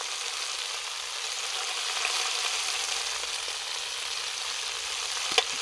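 Pork skin frying in a pot to render lard, giving a steady, dense sizzle throughout with a brief louder crackle near the end and no talking.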